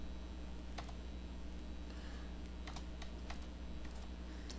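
Light tapping on a computer keyboard while entering product details into sales software, a few sparse, soft clicks in small clusters over a steady background hiss, with no talking.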